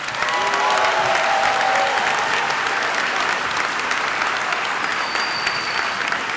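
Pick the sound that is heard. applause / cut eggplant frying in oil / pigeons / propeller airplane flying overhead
applause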